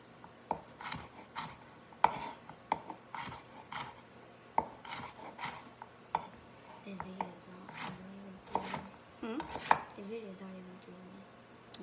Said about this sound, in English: So we're just going to chop down our sweet potato.